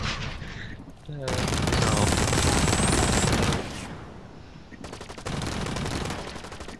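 Heavy sustained weapon fire in the shooter game Blacklight Retribution roars in two long, loud bursts separated by a brief lull, with a short spoken word near the start.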